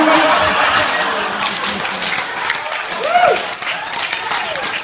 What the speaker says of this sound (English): Wait for applause and laughter.